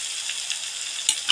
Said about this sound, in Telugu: ఇప్పుడు కొద్దిగా అల్లం వెల్లుల్లి పేస్ట్